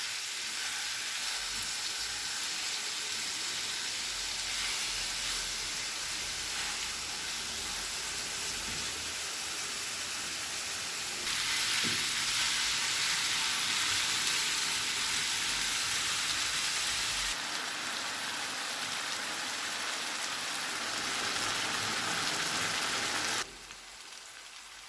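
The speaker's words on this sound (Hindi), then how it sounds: "इसमें मैरिनेट किया हुआ चिकन शामिल कर देंगे। चिकन को 8 से 10 मिनट के लिए पका लेंगे।" Marinated chicken for a paratha roll cooks in a pan with a continuous, even sizzle and crackle that swells louder midway, then drops off near the end.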